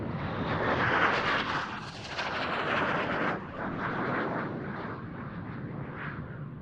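A Spanish Navy EAV-8B Matador II+ Harrier jet roars continuously overhead during an air show display, loud and broadband, swelling and easing slightly as it passes.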